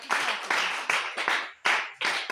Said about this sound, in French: Il faut applaudir une fois encore pour le Seigneur